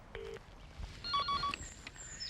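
A telephone is dialed for a call: a few short, faint electronic tones sound in quick succession over a quiet room.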